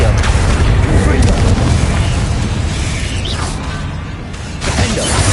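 The Confringo fire spell in the Hogwarts Legacy video game, a series of loud, close explosive booms and bursts mixed with crackling combat effects, continuous and dense throughout.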